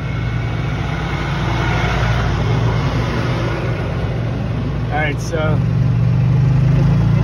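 An electric hybrid golf cart's engine drones steadily at low pitch and rises slightly as it pulls out, close and continuous, with someone speaking briefly over it.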